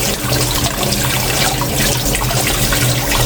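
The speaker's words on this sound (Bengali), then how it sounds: "এইভাবে ধুয়ে নেব ফুলগুলো সব" Water from a tap pours steadily over pumpkin flowers being washed, a loud, close, continuous splashing rush.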